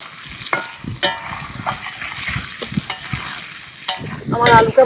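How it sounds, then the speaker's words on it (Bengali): Potatoes fry in mustard oil in a kadai with salt and turmeric. A crackling sizzle is broken by sharp stirring knocks and scrapes, and it swells into a louder burst at the end. "আমি প্রথমে আলুগুলো ভেজে নেব।"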